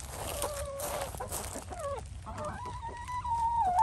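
Chickens clucking and squawking in an icy farm pen after feeding, several overlapping calls close by, ending in a longer drawn-out cackle.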